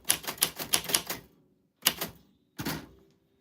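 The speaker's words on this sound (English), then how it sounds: "We are typing everybody's name for good vibes and lovely times." A typewriter typing names: a quick run of sharp key strikes, then a pause and two separate clacks, close and moderately loud with no voices.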